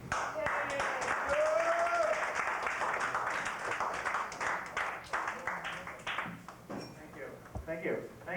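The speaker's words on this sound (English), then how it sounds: "give them all a nice round of applause" An audience at an open-mic night at the Middle East club claps steadily for about eight seconds, dense and fairly loud at first, then thinning into scattered claps toward the end.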